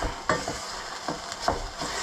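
A spoon stirs curry in a pot, making soft scraping strokes at a steady pace over a quiet background sizzle.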